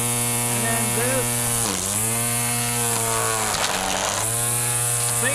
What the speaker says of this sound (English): And now I'm going to start trimming.